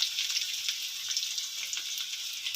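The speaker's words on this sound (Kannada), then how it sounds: "ಫಸ್ಟು ಶುಂಠಿ ಹಾಕ್ತೀನಿ, ಆಮೇಲೆ ಈರುಳ್ಳಿ ಸ್ವಲ್ಪ ಫ್ರೈ ಆಗ್ತಿದ್ದಂಗೆ" Ginger and onion sizzle steadily in hot oil in a pan for vegetable paddu, with a constant close crackle and faint stirring underneath and no voices.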